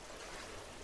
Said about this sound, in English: a river